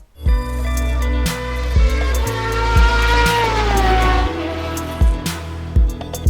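Classic Porsche 911 Carrera race car with a 250 horsepower engine and H-pattern gearbox, in RaceRoom at Bilster Berg, revving loudly and steadily through repeated gear changes, pitch rising and dropping with each shift, close and alone.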